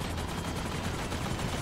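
Fast, continuous bursts of gunfire from a shooter game, Extraction, pound at close range with overlapping shots for the whole stretch, loud and unbroken with no speech.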